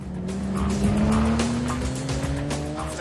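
A car accelerating on a racing circuit with its tires squealing: a loud, rising engine drone and sustained screech of rubber throughout, close and continuous, with no talking.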